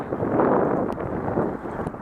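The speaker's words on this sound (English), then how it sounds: "it's still wicked windy" Steady, loud wind roaring and buffeting the microphone for the whole stretch, a broad rushing noise with no talking.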